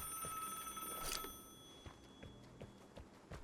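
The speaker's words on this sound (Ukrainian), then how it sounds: "коли ви відповідаєте на телефонний дзвінок" A telephone ringing in a video game, a faint bright electronic ring burst early on, followed by soft intermittent clicks and knocks.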